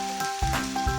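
Vegetables for Nigerian fried rice fry in a pan, a steady close sizzle and hiss with a few stirring bumps across a brief moment.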